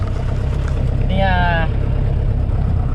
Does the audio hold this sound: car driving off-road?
yes